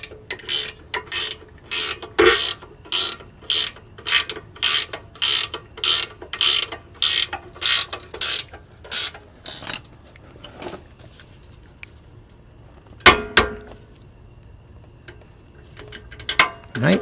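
A ratchet torquing down a rear disc brake caliper on a GM GMT900 1500 truck, a series of close, loud, evenly spaced clicking bursts, then a pause and a couple of sharp metallic knocks.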